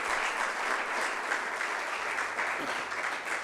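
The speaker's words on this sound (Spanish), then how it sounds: "Dale una ofrenda de palmas si en realidad así lo quieres hacer." A church congregation claps together in steady, dense applause that carries on evenly throughout, loud and close, with no speech standing out.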